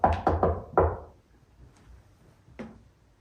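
Knocking in a house during a ghost investigation: four quick hard raps in a cluster, then a pause and a single fainter knock, close and sharp in an otherwise quiet room.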